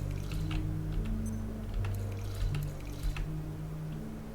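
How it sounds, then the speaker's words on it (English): Watering plants in the video game Abiotic Factor, soft splashing and dripping liquid pouring over a low steady game hum, quiet and close, with small splashy bursts scattered through and no talk. "Oh, I gotta water my plants."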